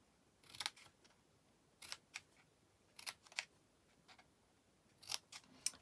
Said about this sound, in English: So just cut those up.